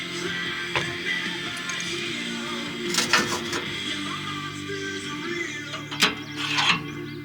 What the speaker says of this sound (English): Pulling the mounting bolts off for the DPF.